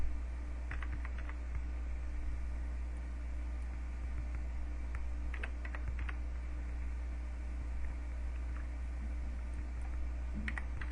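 Short bursts of computer keyboard typing as values are entered, soft clicks in small clusters over a constant low electrical hum, close and fairly quiet with no one talking.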